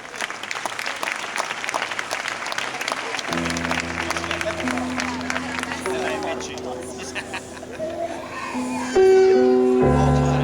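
An audience at a live music event in Belvì applauds with dense, fast clapping, then the crowd noise gives way to sustained instrumental music that rises toward the end.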